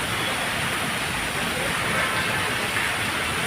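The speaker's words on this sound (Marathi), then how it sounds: "केवढा धुवाधार बरसतोय" A heavy downpour of rain roars steadily and loudly throughout, a dense continuous wash of falling water with no voices.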